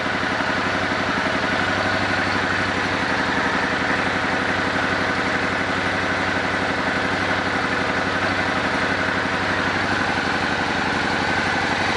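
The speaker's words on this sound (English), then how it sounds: "Hear the engine picking up and the vacuum increased." An old Suzuki Boulevard motorcycle engine idles steadily while the idle mixture screw is adjusted for highest vacuum, a loud, close, continuous rhythmic thrum with no talking over it.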